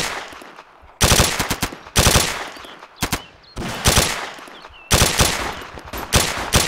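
Bursts of automatic machine gun fire in the military shooter ArmA 2 with the ACE mod, several loud rapid volleys separated by short pauses, close and dominant with no talking.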